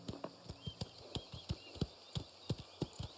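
Horse hooves clip-clop in the video game Mafia The Old Country: a steady run of sharp, evenly spaced hoofbeats, close and distinct over a faint background.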